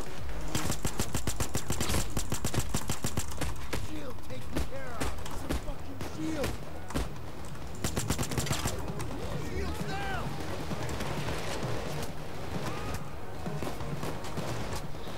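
Rapid bursts of automatic gunfire from a Payday 2 heist firefight, dense and loud at first, then thinning to scattered shots over game noise and speech-like chatter.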